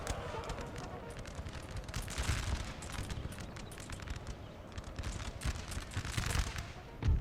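Musket volleys crackle in a Napoleonic battle in Napoleon Total War, with Prussian line infantry firing on hussars. Dense, continuous popping gunfire of varying loudness fills the scene, with a louder burst near the end.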